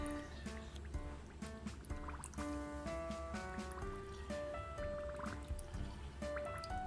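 Water poured into a toy, bubbling and trickling with a rising filling tone, close and fairly quiet, with scattered knocks and no talk.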